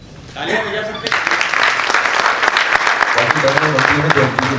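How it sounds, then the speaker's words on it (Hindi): An audience applauds at an honor ceremony for a veteran of theatre and film: a voice over a PA comes first, then about a second in, the clapping swells into steady, lively applause that continues under some talk. "तालियां बजा सकते हैं।"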